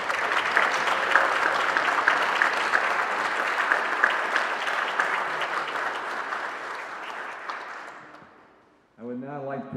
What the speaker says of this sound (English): a round of applause to the North Vesta Junior ROTC